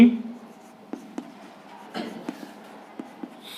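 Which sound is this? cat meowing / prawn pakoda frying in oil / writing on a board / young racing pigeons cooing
writing on a board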